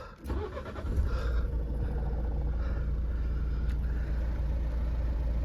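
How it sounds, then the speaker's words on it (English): A Nissan X-Trail 1.6 dCi diesel with a manual gearbox cranks and fires close by, then settles straight into a steady, low rumbling idle that carries on evenly to the end. "Just start the car up."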